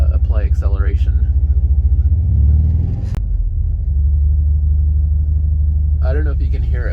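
A VW Vanagon Carat engine with a new Magnaflow exhaust rumbles deeply at idle nearby, swelling briefly as the throttle is applied, while someone talks at the start and again near the end.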